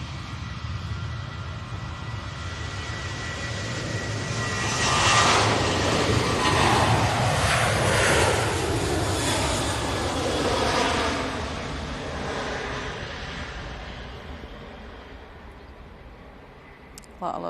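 KLM jet airliner taking off from Manchester, a loud broad engine roar that builds, peaks and slowly fades into the distance, with voices talking over it.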